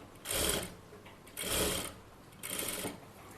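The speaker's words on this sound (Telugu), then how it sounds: "ఈ పై క్లాత్ని కొంచెం కిందకి ఇలా అనేసి అప్పుడు స్టిచ్ వేసుకుంటున్నాను" A sewing machine stitches cloth in three short bursts, each about half a second long, with quiet pauses between them, heard up close.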